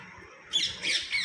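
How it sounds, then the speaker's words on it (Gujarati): Loud, harsh parrot squawks burst out twice in quick succession, close by, over a quiet outdoor background. "પોપટા જો કેવા બોલે છે"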